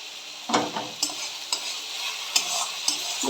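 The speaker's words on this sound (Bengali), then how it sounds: "মশলাটা একটু দিয়ে দিচ্ছি। ভালো করে কষতে থাকবো।" Spice paste for a Bengali egg curry is stir-fried in a pan, a steady soft sizzle punctuated by rhythmic spatula scrapes roughly every half second, close up and without speech.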